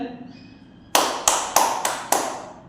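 Five sharp, close claps in a slow, even rhythm, each ringing briefly, after a moment of quiet with faint talk in the background.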